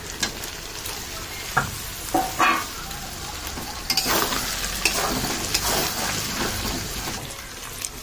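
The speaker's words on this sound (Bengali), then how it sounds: "এখানে এখন কেটে রাখা টমেটোও দিয়ে দেবো।" Chopped tomatoes go into sizzling chicken masala in a pan, making a loud frying hiss with wet stirring and scraping. Occasional spatula knocks punctuate it, and no one speaks.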